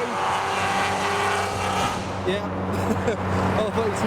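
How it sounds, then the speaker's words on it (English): A Volkswagen Golf R32 drives away from a car show, its engine a steady, fairly loud drone that shifts in pitch toward the end amid general outdoor show noise. "So there goes the R32"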